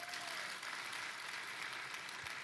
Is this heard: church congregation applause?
yes